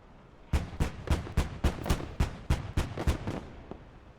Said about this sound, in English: At least they fire like anti-aircraft ones.